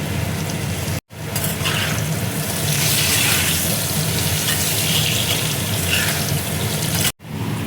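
Potatoes frying in hot oil in a pan, a loud, dense, continuous sizzle that runs almost unbroken across the whole stretch, cut by two brief gaps, with no talking.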